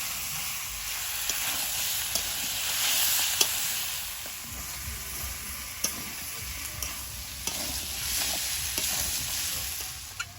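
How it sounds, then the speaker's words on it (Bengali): Chicken pieces sautéing with taro root (mann kochu) in a pan, a steady loud sizzle running throughout with scattered scraping clicks from stirring. "এবার চিকেনটা দিয়ে দেবো। চিকেনটা ভালোভাবে কচুর সঙ্গে কষিয়ে নেব।"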